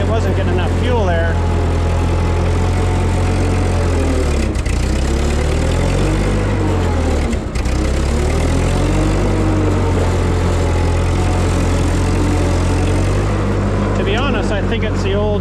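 A Ford 2N tractor engine runs loud and close, fitted with a new carburetor and sounding short of fuel, with a steady chugging drone and two brief dips in the note, under a voice.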